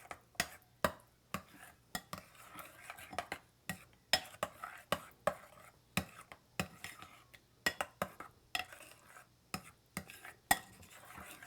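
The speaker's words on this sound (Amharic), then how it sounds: "ይሄን አማስላለሁ።" Chickpea hilbet with oil, chili, onion and garlic is stirred in a bowl, a spoon clinking against the sides in quick, regular strokes, close up and fairly quiet.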